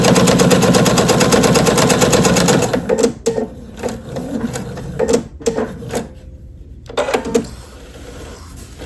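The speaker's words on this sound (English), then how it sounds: "I'm just going to sew all the way down this edge, sew the binding down" A sewing machine stitches binding down the edge of a quilt, running in a loud steady whir for about three seconds, then breaking into short bursts of stitching with brief pauses between them.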